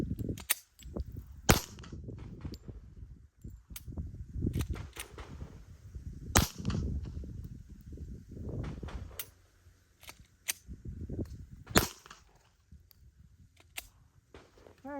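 A Glock 23 Gen 3 .40 caliber handgun fires a series of sharp, loud shots at irregular intervals outdoors, with pauses and handling noise between rounds.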